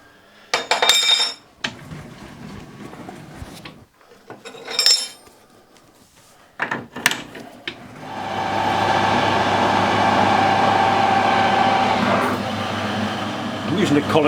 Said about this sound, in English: I'm going to face the end of the bar and centre drill it.